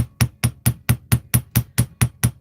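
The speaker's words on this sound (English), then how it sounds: "then we'll go in here with our steel bench block and our chasing hammer. And I usually just hammer it right here." A chasing hammer strikes jewelry wire against a steel bench block in eleven sharp, evenly spaced metallic taps, close and loud with a clear ringing edge.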